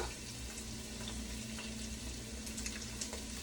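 Garlic and onion fry in a pan for a creamy tomato basil soup, a steady low sizzle that holds evenly throughout with a few faint crackles and no talking.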